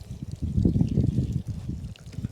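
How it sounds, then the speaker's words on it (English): Water pours onto freshly planted cantaloupe seeds in a garden, a short close splashing trickle lasting a couple of seconds. "Get a little bit of water and water it in again."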